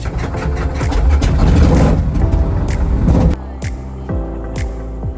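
A propeller engine at an aviation museum runs at high RPM with a loud, dense roar that abruptly cuts, then winds down through falling tones and a few sputtering bursts.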